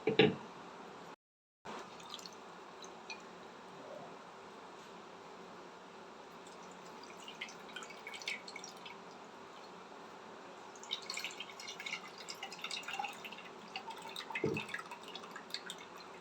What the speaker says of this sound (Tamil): புளி வந்து நான் கரைச்சி எடுத்துக்கிட்டேன்